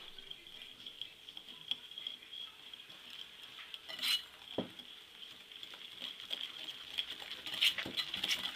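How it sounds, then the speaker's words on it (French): Almond powder mixture in a bowl being whisked with a small whisk, making a quiet, irregular patter of light scraping and ticking strokes with occasional louder clinks, close but faint, with no speech. "Je prends un petit fouet."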